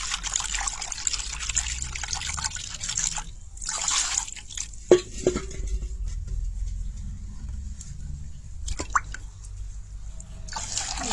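Cold water trickling and dripping while chhana (cottage cheese) is rinsed: a steady thin trickle with scattered drips and a couple of clinks, briefly pausing then resuming.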